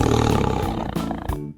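Tiger roar from a 3D animal sliding video game, one loud, rough growling roar that fills most of the moment and breaks off abruptly, heard alone without talk.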